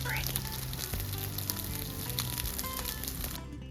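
A tortilla filled with pork and cheese sizzles steadily in butter in a pan, a dense, continuous crackling fry that stays close and even throughout, with a brief faint voice near the start.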